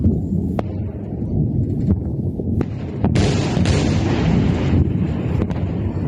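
Iranian ballistic missile strikes on the city of Haifa produce heavy booming explosions, a few sharp cracks among a continuous loud rumble, then a dense roaring blast that lingers.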